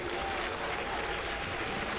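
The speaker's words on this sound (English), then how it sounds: "the golf clap is nice" Polite golf-clap applause from spectators at an outdoor evening sports event, a steady dense patter of hands lasting the whole stretch with no voices standing out.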